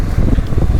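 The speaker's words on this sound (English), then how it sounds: "The wind is insane here." Strong desert wind in Peru buffeting the microphone, a loud, continuous low roar with rumbling gusts and no voices.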